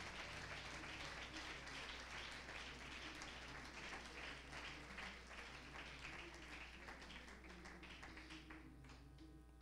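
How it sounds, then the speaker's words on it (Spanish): A church congregation claps during a Spanish-language service, the steady, fairly dense applause going on throughout, distant and fairly quiet against a low hum, with a voice briefly heard. "Dele un aplauso al Señor en esta mañana."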